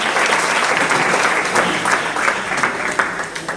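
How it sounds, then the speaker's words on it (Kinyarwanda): An audience at a birthday celebration claps loudly and steadily, dense applause filling the room without a break. "tubakomere amashyi menshi cyane."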